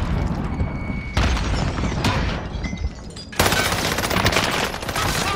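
Gunfire and a grenade explosion in a duos match of an online shooter game, dense rattling shots and booming impacts that drop briefly, then return as a loud, sustained burst of fire.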